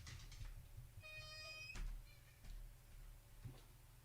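A cat indoors gives a single clear, tonal meow near the start, followed by a few soft knocks and bumps against a quiet, faint room background.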